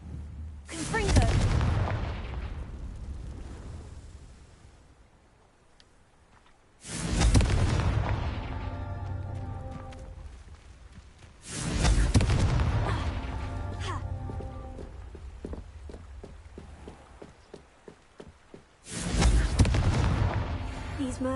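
Confringo blasting spells in the video game Hogwarts Legacy: four heavy booming explosions spaced several seconds apart, each with a rumbling decay, plus a quick run of smaller pops between the third and fourth.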